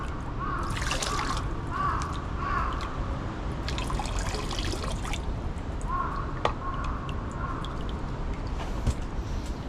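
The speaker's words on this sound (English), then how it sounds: "I'm gonna wash our hands." Running water pours steadily from a tap during handwashing at a rainy Japanese temple, with intermittent splashes and drips close by, and no speech over it.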